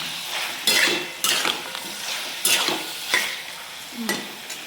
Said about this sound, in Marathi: हे आता पूर्ण मिक्स झालेलं आहे हळद व मीठ याच्यामध्ये